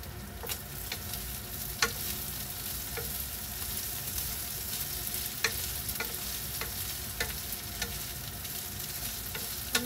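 Eggplant sizzling steadily in a hot pan, a dense close crackle with occasional sharp pops and stirring clicks, no talking.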